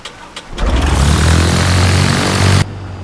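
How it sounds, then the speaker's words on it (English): The piston engine of a simulated Cessna 150 in X-Plane 11 cranks with a few stuttering coughs, then catches and roars into a loud, steady idle for about two seconds before cutting off abruptly. "It sounds exactly like the real Cessna 150."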